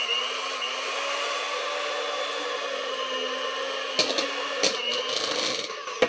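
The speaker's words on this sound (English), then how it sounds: "using an electric hand mixer, we want to turn the setting up to medium to cream the margarine" An electric hand mixer on medium speed creams margarine for heart-shaped Valentine's treats, giving a steady, close motor whine that runs throughout, with a few sharp clicks and knocks of the beaters against the bowl near the end.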